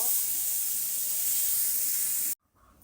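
Onion and garlic sizzle together in hot oil, a steady loud hiss of sautéing that cuts off abruptly near the end, leaving near silence.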